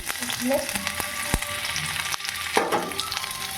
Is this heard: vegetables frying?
yes